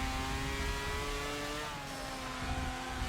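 Mazda RX-7 engine in the Forza Motorsport 7 racing game, a steady, buzzy mid-pitched drone that is held at part throttle through a corner, with slight rises and dips in pitch and no speech.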